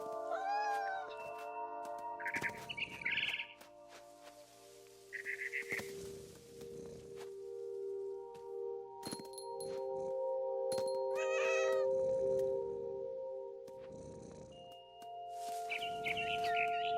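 Game cat from What Remains of Edith Finch meows several times in short, clear calls spread across the stretch, over a steady ambient game soundtrack with bird chirps, no talking.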